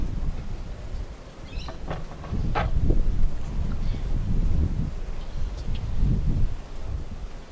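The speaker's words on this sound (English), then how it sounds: "It is windy." Steady low rumbling wind buffets the microphone throughout, swelling and easing in gusts with no voices.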